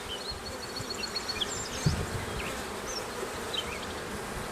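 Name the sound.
honeybees buzzing around an open beehive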